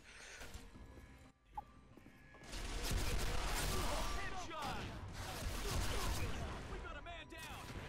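Rapid gunfire bursts and crashing effects from the online shooter ArcticCombat pile up in a dense, busy mix, with a player's voice talking over the action.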